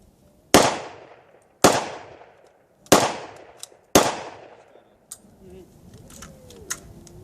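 Handgun test-firing cast bullets outdoors: four sharp, loud gunshots spaced about a second apart, each with a short decaying echo, followed by fainter metallic handling clicks and quiet murmuring.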